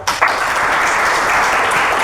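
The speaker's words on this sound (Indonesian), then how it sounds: "beri tepuk tangannya yang sudah menjawab" Classroom applause for students who answered during a microteaching lesson, a steady wash of clapping from a group that starts sharply and holds for about two seconds with no talk over it.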